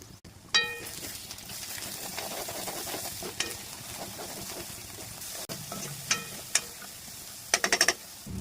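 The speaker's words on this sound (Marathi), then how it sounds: "मसाला चांगला परतून झाला आहे" Spice masala of onion-garlic masala, garam masala, coriander powder and red chilli powder sizzles steadily in a pan while being stirred, with occasional clinks of a spoon against the metal.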